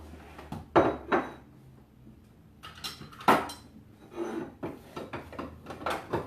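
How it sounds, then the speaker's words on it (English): Grilled potatoes from a George Foreman grill being scooped into a bowl: several sharp utensil scrapes and clinks against the grill plate and dish, close and fairly loud, in uneven bursts with quiet gaps between. "Scoop over right into the bowl."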